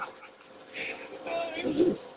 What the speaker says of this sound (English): That dog sounded tiny